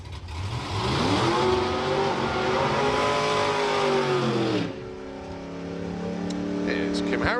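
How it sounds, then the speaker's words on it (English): A drag racing car's engine roars loudly nearby, holding a high steady rev, then drops to a lower idle before revving again, with no speech over it. "I can hear an engine below us, but I can't see a burnout coming through yet."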